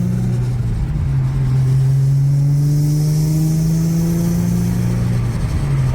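An Infiniti G37 sedan engine revs steadily and loudly, its drone holding a low rising pitch throughout with no speech over it.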